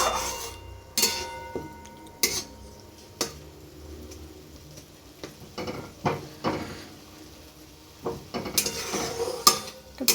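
Tomatoes for egg curry being stirred and fried in a pan with a spatula, giving irregular scraping clacks and soft sizzling, loud close knocks against the pan scattered throughout, no voices.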